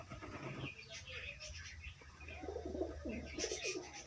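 A male pigeon in a loft coos in a series of close, rolling throaty calls during the second half, after some brief chirps and rustling, with a voice faintly present.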